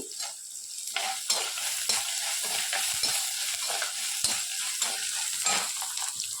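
Mustard seeds, urad dal, dried red chillies and cashews fry in hot oil for semiya upma, giving a bright, crackling sizzle with frequent spoon scrapes and stirs, close up and without speech.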